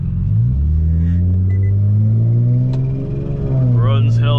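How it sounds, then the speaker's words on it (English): A supercharged Infiniti G37's engine runs close and loud with a deep, even rumble. Its pitch rises and falls slightly, with a brief lighter sound at the end. "The car don't misfire, it runs fine."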